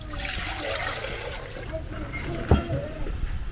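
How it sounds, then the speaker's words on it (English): Water is poured by hand onto smooth corn dough while making fufu in a village kitchen, a continuous close pouring and splashing with a sharper splash partway through and faint background voices. "So I want to pour the water here."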